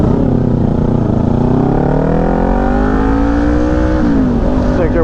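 Motorbikes ride past on an open country road in farming land in the Smoky Mountains and Blue Ridge Parkway area, their engines droning loud and steady, with a rising and falling pitch as they go by.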